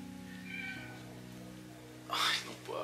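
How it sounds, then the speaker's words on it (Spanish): Small cat meowing indoors, one short, fairly loud cry near the end after a quiet stretch of faint room noise. "y el gatito está llorando."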